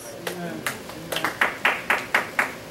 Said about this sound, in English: You don't have to clap your hands